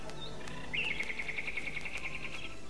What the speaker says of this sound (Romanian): Auzi? Privighetoare.